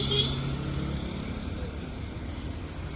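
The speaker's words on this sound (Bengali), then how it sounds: "ওই যে অটো।" An auto-rickshaw passes along a village road on a sunny morning, its engine a steady, moderately close rumble and drone that holds evenly for the whole stretch without a sharp peak.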